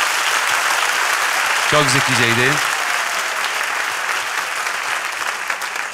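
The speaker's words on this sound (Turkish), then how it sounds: "Hele hele ki şu paravan arkasındaki koşma rejisi için ayrıca bir alkış istiyorum." Theatre audience at a Turkish sketch comedy show applauds loudly and steadily from start to finish; a man's brief remark cuts through the clapping partway through.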